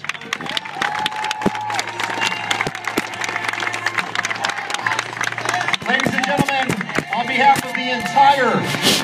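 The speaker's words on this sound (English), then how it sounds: "Give them a big round of applause." Crowd applauding police officers and deputy sheriffs at a monster truck show, steady clapping and scattered cheers filling the stands, with an amplified announcer's voice and low rumbling underneath.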